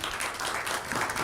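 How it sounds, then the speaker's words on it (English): Brief burst of applause from guests at a mosque volunteer appreciation dinner, a dense, close wash of clapping filling the whole short moment. "So our big round of applause first for all of you."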